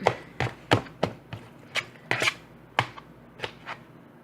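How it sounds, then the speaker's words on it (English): A knife rough-chops cauliflower on a cutting board, giving a dozen or so sharp, close knocks in an uneven rhythm with no talk. "I'm just going to do some rough chopping"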